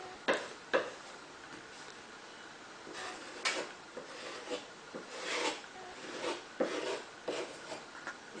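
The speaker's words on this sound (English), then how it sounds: "This handy scraper allows you to put it on easily and also helps you to even out the surface." A handy scraper spreads filler over cracks in a wall, giving intermittent close scraping and rubbing strokes in short bursts with pauses between.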